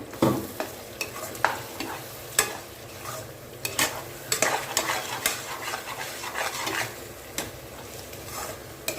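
Brinjal pachadi, Andhra-style, stirred and fried in oil in a pan: repeated spatula scrapes and taps against the metal over a continuous sizzle, close up, with no one talking.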